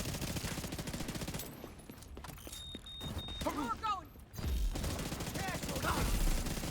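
Pistol gunfire in a shooter video game, bursts of rapid shots crackling over a constant din of combat noise, with brief voices and mechanical creaks between volleys.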